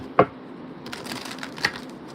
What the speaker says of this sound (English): Let me give a good shuffle to these decks here.